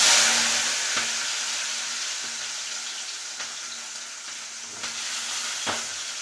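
Onions fry in a pan for a spicy intestine (kudal) fry, a steady, moderate sizzle under a faint low hum, broken by a few sharp clicks of a spoon, with no speech.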